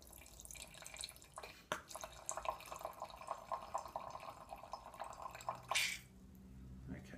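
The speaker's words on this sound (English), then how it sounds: "We'll push this, and the gas will go in the bottle, release, and it's going to pour." Wine pouring from a bottle through a Coravin gas-injection wine preserver, held at an angle: a steady trickling, dripping stream runs for several seconds, with a brief sharp hiss of gas release near the end.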